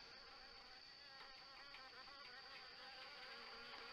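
Wasps buzzing around an overgrown house in the video game Harvester, a steady insect drone that holds at an even level throughout with no voices.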